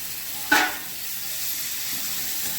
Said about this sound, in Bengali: টমেটোগুলো দিয়ে দিচ্ছি।